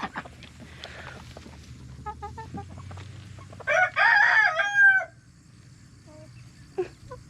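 Hens cluck softly in the background, then a rooster crows loudly and close by for about a second, followed by a few quieter clucks.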